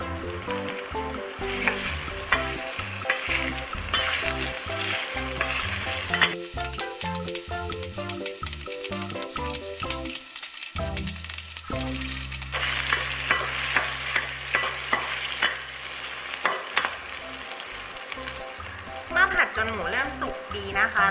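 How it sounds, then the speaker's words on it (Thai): Pork belly stir-fried in a dry pan with no oil, giving a steady sizzle and frying hiss with stirring, played under prominent background music throughout. "เวลาที่เรา ผัดหมูสามชั้นเนี่ยเดี๋ยวน้ำมันเขาจะออกมาเองนะคะ"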